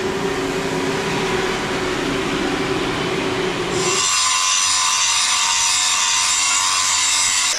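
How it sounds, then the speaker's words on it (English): Continuous harsh grinding of lawnmower blades against an abrasive wheel during sharpening, loud and close, its tone shifting partway through to a higher, hissing scrape. "sharpening lawnmower blades"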